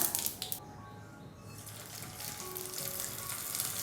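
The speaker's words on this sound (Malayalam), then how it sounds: "ഇനി ഇതെല്ലാം കൂടി ചേർത്തിട്ട് നല്ല രീതിയിലൊന്ന് വഴറ്റിയെടുക്കാം" Onion and tomato sauté in a pan for a spicy chutney. A dense, close sizzle runs throughout, with a few quick stirring clicks near the start.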